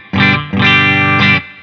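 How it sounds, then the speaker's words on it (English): Electric guitar through a NUX Mighty Space amp on a Jazz Clean setting with K-Comp compressor, Jazz Clean IR and a touch of spring reverb: three loud, sustained clean chords, rich and slightly shimmering, each held then cut. "So we got a compressor going on, K-Comp, Jazz Clean amplifier, Jazz Clean IR as well."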